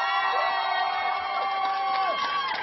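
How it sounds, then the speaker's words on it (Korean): A crowd at a Democratic Party election rally in Jeju cheers. Whoops and high sustained shouts rise over a steady, loud crowd roar across the short stretch. "박수 한번 보내주세요"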